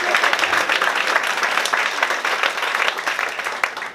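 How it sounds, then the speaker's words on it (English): A concert audience breaks into loud, sustained applause, a dense steady wash of many hands clapping that holds for several seconds. "I'm gonna give you guys a round of applause because you guys deserve it"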